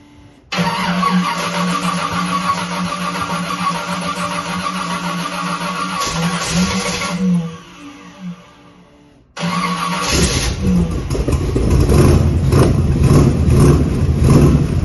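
A 1929 Ford Model A, fitted with Corvette parts, cranks and fires up, then settles into a loud steady run. The engine cuts out briefly and restarts into a rougher, louder idle.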